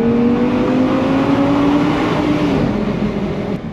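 Engine of an Audi R8 V10 Spyder R-Tronic supercar, a loud, sustained roar heard from inside as revs climb steadily, then ease off near the end, with no talk.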